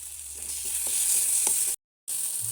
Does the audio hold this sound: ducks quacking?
no